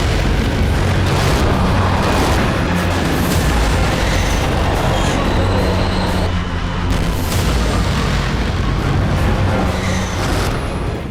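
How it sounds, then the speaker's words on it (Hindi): Battlefield explosions in the Armenia–Azerbaijan war fill the air as a continuous, loud, rumbling roar with dense booms and bursts layered throughout, no clear pauses. "विश्व युद्ध की बुनियाद रखते सबसे विध्वंसक युद्ध का यह बारूदी दृश्य है।"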